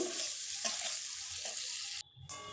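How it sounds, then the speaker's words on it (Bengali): Carrots are stirred and fried in hot oil in a pan, a moderate, continuous sizzle with a few soft stirring knocks, then cut off abruptly by a short hissing burst near the end. "তো এটা ভালো করে নাড়াচাড়া করে আমি ভেজে নেব।"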